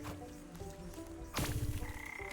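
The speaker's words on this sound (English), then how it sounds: "You walk near it a few times and the sound of toads are deafening." Toads croaking near a bog in the video game Wytchwood: a steady chorus of low croaks, then a sudden louder burst of rapid, rattling croaks close by, with no talk.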